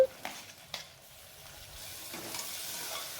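Tomato, peas and ginger-garlic paste sizzle in a hot pan, a few sharp clinks at the start giving way to a soft, steady frying hiss with light stirring.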